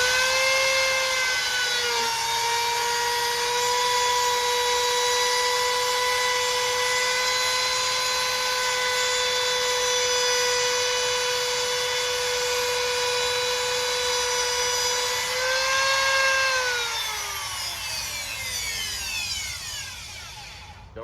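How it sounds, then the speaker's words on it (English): A palm router cutting a bead along a wood edge, a steady high-pitched whine that holds for about fifteen seconds, then drops and winds down as the bit spins to a stop. "Notice how I hold the router with 2 hands until it stops rotating."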